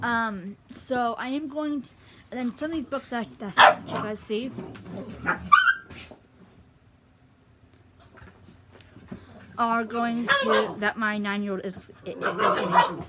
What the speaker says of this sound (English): Sorry if you guys hear dogs in the background.